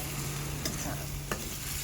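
A vegetable paste being stirred in a hot cooking pan, a continuous soft scraping and sizzle close by with a couple of sharper clinks of the spoon and no talk.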